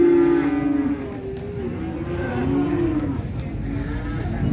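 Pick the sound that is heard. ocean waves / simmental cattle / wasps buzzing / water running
simmental cattle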